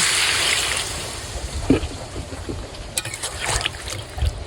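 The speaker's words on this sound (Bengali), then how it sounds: "এই যে আমি জল দিয়ে নেব" Water poured into a cooking pot of potatoes being boiled, a steady broadband rushing splash running through the clip with a few small knocks and clinks.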